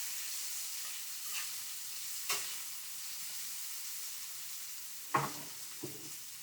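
Sauce for escovitch snapper cooking down in a pan, with a quiet continuous sizzle broken by a few sharp clinks and taps of a utensil.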